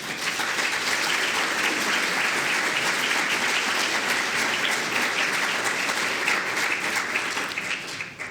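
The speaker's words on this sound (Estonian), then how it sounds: "Palun teeme suure aplausi." Sustained, dense applause from an audience at an education workers' appreciation event in Tartu, steady and loud for the whole stretch with no talking over it.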